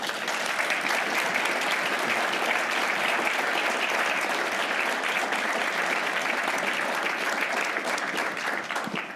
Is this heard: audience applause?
yes